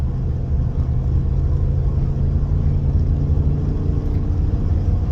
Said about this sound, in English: This is a very powerful truck.